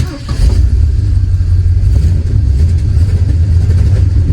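A 1976 Ford Granada drives around the block, its engine running rough with a gummed-up carburetor, giving a loud, steady low rumble heard from inside the car, with no talking.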